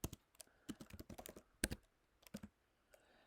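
Java code is being typed on a computer keyboard in a quick, uneven run of close, crisp key clicks with brief pauses, alone and fairly quiet.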